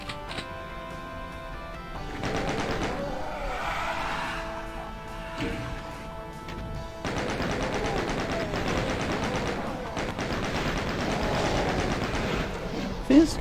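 Rapid automatic chaingun fire in classic Doom 2 on PS4, long bursts of fast repeated shots in two main stretches with a brief pause between, loud and close over game noise.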